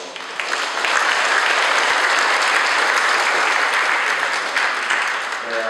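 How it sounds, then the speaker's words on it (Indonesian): Audience applause at a parish inauguration ceremony: dense, steady clapping from a crowd, loud and sustained for the whole stretch, with no voices over it. "kita tepuk tangan dulu."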